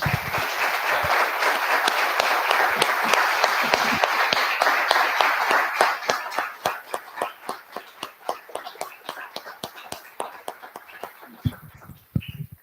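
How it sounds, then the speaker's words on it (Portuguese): A crowd applauds loudly and steadily, then the clapping thins into scattered, fading claps from a few hands. "pedindo aqui uma grande salva de palmas para a nossa colega"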